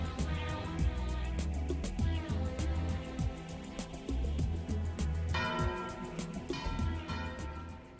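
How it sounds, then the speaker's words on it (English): Church bells in Spain peal continuously in a steady, overlapping rhythm, loud and fairly close, ringing throughout with no voices. "And the bells rang."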